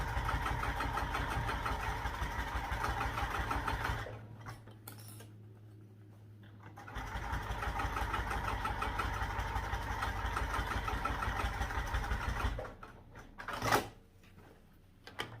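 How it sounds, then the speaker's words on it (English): A sewing machine top-stitches a closed hole in a backpack with a steady mechanical hum. It pauses briefly partway through, then runs again before stopping near the end with a few clicks. "So I've top stitched that hole closed."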